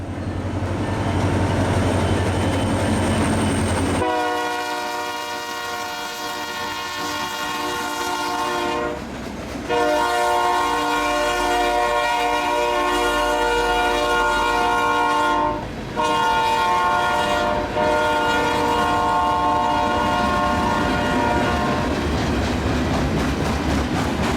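An Iowa Northern freight train passes close by on a frozen winter day, its loud multi-tone horn blaring in several long blasts with short breaks, over the rumble and clatter of the cars.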